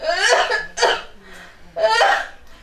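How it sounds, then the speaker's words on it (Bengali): An elderly woman coughs indoors in a home, with three harsh, raspy bursts spaced about a second apart, close and fairly loud, with weak breathy sounds in between. "তোমার মা আবার কাশতেছে।"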